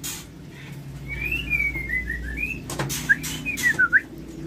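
A white-rumped shama (murai batu) kept in a cage sings two short whistled phrases. The first is a descending run of clear notes, followed by a quicker sharp trill. It is moderately faint over a low background hum, with no voices.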